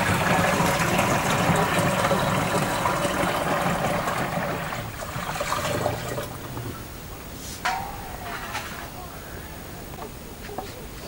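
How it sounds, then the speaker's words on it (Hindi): Ten litres of water are poured into a sprayer tank for mixing a neem-based pest treatment, making a loud, steady gushing splash that fades after about five seconds. Quieter sloshing and knocks follow, with a voice now and then. "इसमें हम पहले 10 लीटर पानी डालते हैं ना"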